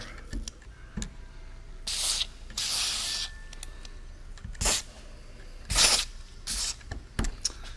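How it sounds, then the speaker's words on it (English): A spray cleaner hisses onto old, gunked-up parts of a Chamberlain B2401 garage door opener in several short, close bursts, separated by quiet pauses and light handling clicks. "I'll spray a little bit on there because on mine it's old and really gunked up"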